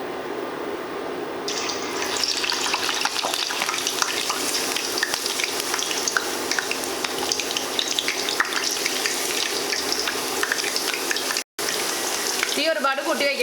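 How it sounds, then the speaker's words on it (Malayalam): Potato chips fry in hot oil with a dense, continuous crackling sizzle at close range, which cuts out for a moment near the end before resuming with a brief faint voice. "ഓയിൽ നന്നായിട്ട് ചൂടായിട്ടാണ് ഇരിക്കുന്നത്."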